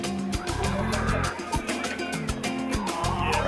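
Warm hens in a coop cluck and squawk continuously while eggs are gathered from under them, a dense, close, busy chorus of fowl calls.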